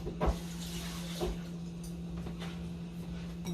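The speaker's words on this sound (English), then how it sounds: "Take the shell and rinse." Tap water runs faintly as a shrimp shell is rinsed, a soft steady hiss with a low hum beneath and a few quiet knocks and splashes.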